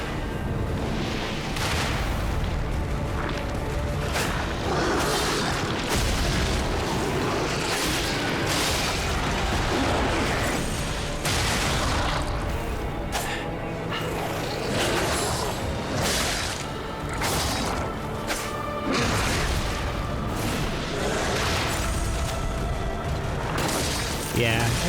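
A turret in the game Lies of P fires explosive shots, sending repeated loud booming blasts at an irregular pace through a dense, constant battle din, with a voice talking throughout.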